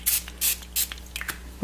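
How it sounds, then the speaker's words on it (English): A spray bottle spritzes soap onto layered Valentine soap cupcakes, several short sharp hissing bursts in quick succession, close and fairly loud over a low steady hum. "spray these guys with that soap"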